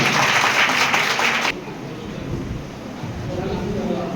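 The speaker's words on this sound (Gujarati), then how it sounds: "તાળી પાડીને આપણે સ્વાગત કરવાનું છે." An audience at a village get-together in Mehsana claps in dense, loud applause for about a second and a half, after which it stops and talking takes over.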